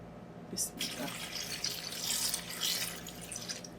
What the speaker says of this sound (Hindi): अब इसके अंदर पानी शामिल करेंगे